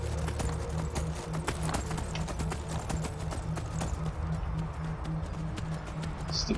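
Video game horse hooves clip-clop in a quick, steady rhythm over a low droning background, the clattering beats continuing throughout without any talking.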